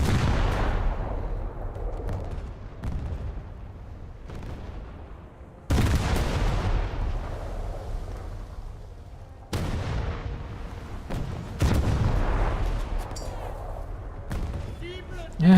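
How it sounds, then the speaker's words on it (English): Heavy naval guns fire again and again in a warship game, each broadband blast booming loud and rolling off before the next, several salvos spread across the stretch, with a voice talking faintly underneath. "And now we just keep shooting."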